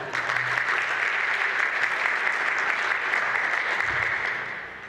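Sustained, dense audience applause for speakers at a high school dedication ceremony, a full room clapping evenly and loudly, tapering off slightly at the end.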